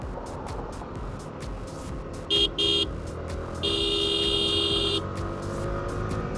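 Busy road traffic heard from a bike trip, with a steady engine and road rumble, two short horn toots and then one longer horn blast standing out clearly over it.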